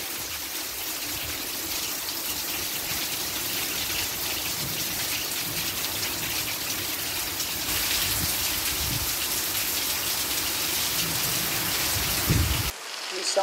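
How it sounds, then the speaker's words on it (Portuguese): Heavy rain pours steadily in Ceará, Brazil, a dense, close, continuous hiss of drops striking surfaces that runs unbroken until it stops abruptly. "Muita chuva,"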